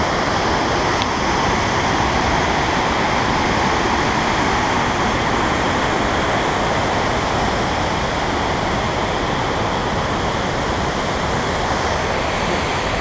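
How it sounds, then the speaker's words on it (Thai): A strong waterfall in North Wales roars as a steady, broadband rush of falling water, dense and continuous from start to finish, close and loud with no voices. "ก็น้ำตกค่อนข้างแรงเหมือนกันนะครับ"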